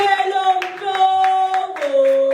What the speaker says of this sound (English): A round of applause for Samuel